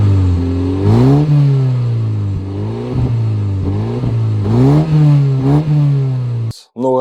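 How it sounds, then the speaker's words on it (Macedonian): A Mini Cooper S with a 2.0 turbo petrol engine of 178 horsepower revs repeatedly, its tone rising and falling in several close, loud blips before cutting off abruptly near the end. "Турбината тука многу повеќе се слуша"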